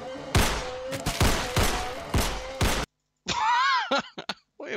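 Rapid gunfire in the horror video game Fractured Mind: a string of loud, sharp shots in close succession, then a short silence followed by groaning vocal sounds.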